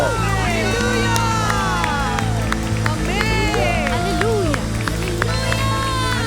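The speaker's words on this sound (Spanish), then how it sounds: "Muy fuerte, muy duro, le damos aplauso." A church congregation applauds and cheers loudly during a sermon, a dense crowd roar with clapping, shouts and whoops, while excited voices rise over the noise.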